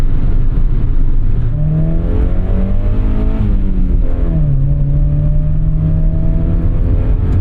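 A 1992 Mazda MX-5 Miata NA engine pulls hard and loud from inside the car, with revs climbing, dropping during a gear change, then rising and holding a steady high drone, with no speech.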